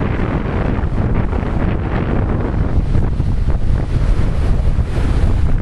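Strong wind buffets the microphone at the beach while surf rolls in underneath, a loud, continuous roaring rush with no voices.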